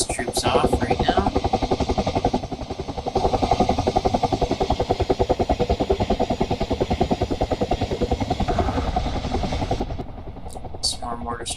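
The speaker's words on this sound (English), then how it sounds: "This chopper is just letting these troops off right now." A military helicopter in the DCS combat simulator hovers while dropping off troops, its rotor beating in a fast, loud, steady chop close by, with someone talking over it.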